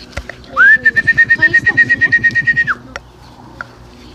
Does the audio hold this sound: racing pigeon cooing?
yes